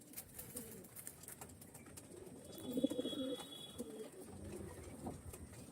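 Andhra-type pigeons cooing faintly, a soft rising and falling coo series in the middle against a quiet, slightly noisy background with a few scattered clicks.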